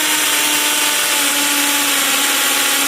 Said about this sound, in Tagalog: Ang tunog ng barena.